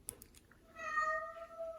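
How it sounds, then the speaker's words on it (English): A single faint cat meow rises and is held for about a second over quiet room noise, with a few soft clicks around it. "there goes my cat"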